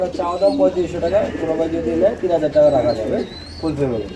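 Sirazi pigeons coo in soft, repeated throaty phrases, close by, with faint higher chirps in the background throughout.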